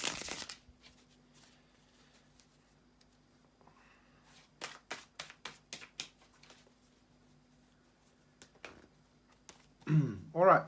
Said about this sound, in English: to shuffle the tarot cards